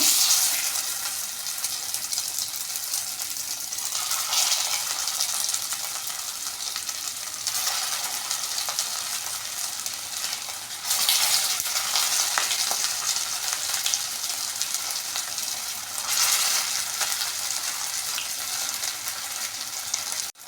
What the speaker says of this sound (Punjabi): ਤੇਲ ਸਾਡਾ ਗਰਮ ਹੋ ਗਿਆ ਹੁਣ ਇਸ ਵਿੱਚ ਪਾਵਾਂਗੇ ਅਸੀਂ